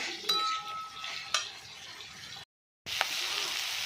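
A spoon stirs taro and salt with prawns in a frying pan, soft sizzling and scraping with a couple of sharp clinks against the metal, broken by a brief silence, quiet and close.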